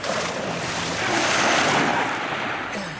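Sea waves wash and surge around a big pirate ship, a steady whooshing roar with wind, swelling slightly in the middle, with no voices over it.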